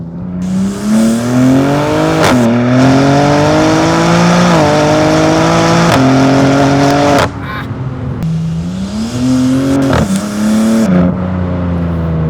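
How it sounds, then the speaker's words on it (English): A 707 hp rear-wheel-drive BMW M4 Competition with a Stage 1.5 tune pulls hard through repeated gear changes, its intake and exhaust rising in loud, close, climbing tones, with brief dips between shifts. "Intake sound good, exhaust sound good"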